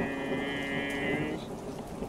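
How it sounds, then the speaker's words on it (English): Steady rain falling during a thunderstorm, a soft continuous wash of drops on surfaces, faint and even throughout with a brief high tonal sound early on and no voices. "We can check it out later when the thunderstorm is over. Now get out of the rain."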